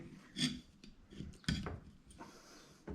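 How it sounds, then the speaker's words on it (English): Tin snips cutting through a car window channel from the chrome end, giving a few short rasping, scraping bursts, loudest near the start and middle, close by with no talk. "if I cut this with tin snips, it should be alright as long as I start at the chrome end"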